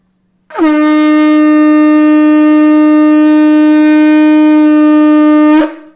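A conch shell blown hard gives one loud, steady horn-like tone lasting about five seconds, rich in overtones, close and alone before it cuts off abruptly.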